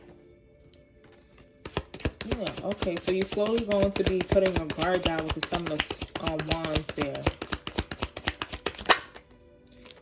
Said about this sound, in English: Shuffle for the fire signs